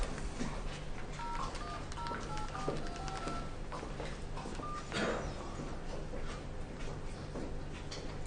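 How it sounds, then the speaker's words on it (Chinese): A series of dual-tone telephone keypad beeps as a number is dialed, short evenly paced tones over a steady background hum, with no talking. "我给打个电话。"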